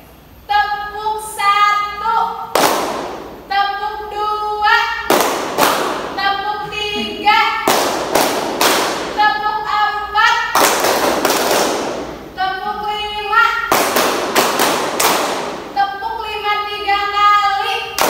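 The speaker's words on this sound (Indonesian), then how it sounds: "tepuk satu, tepuk dua, tepuk" Classroom students clapping hands together in a counted rhythm during a warm-up exercise, loud sharp bursts of claps repeating in groups with a teacher's voice leading between them.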